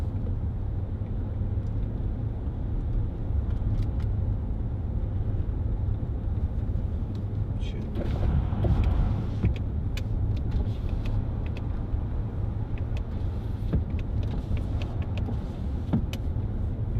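Interior of a 2010 Range Rover Sport 3.6 TD V8 HSE on a road test drive: a steady low diesel drone and road rumble throughout, with a brief swell of wind or a power-window whir near the middle, no talking.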